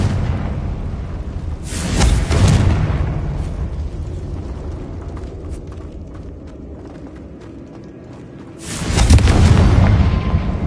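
Confringo spell explosions in Hogwarts Legacy: two loud, broad blasts about seven seconds apart, each with a roaring tail, set against a steady low ambient rumble.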